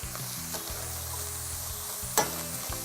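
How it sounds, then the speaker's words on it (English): Ginger and fresh garlic sizzle in a hot pot while being stirred, a soft steady frying hiss with a few light utensil scrapes and one sharper clink, close and quiet, no talking. "Give it a little stir."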